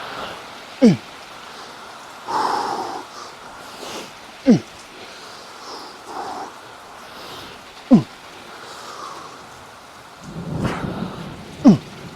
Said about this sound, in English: I'm hoping you can hear me over this rain, which is very loud